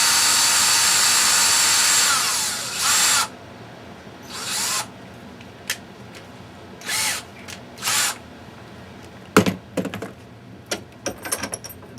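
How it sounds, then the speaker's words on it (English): An electric drill whirs loudly in one long run, then cuts to several short bursts separated by pauses, with sharp clicks and knocks near the end. "Turn the drill on."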